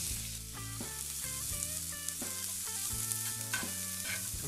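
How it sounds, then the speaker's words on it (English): Chopped onion and two Anaheim peppers sauteing in vegetable oil, a steady bright sizzle running throughout with faint tonal music underneath and no talking. "And get these sauteed a bit."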